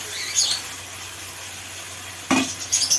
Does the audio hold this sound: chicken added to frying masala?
yes